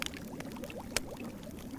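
Water from a pot is poured into dwarven ale in a fantasy adventure video game, a brief splashing pour with a sharp splash near the middle over a steady liquid wash.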